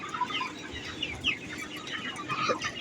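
A flock of 23-day-old chickens in a semi-controlled poultry shed clucks continuously, many overlapping calls close by over a steady background hum.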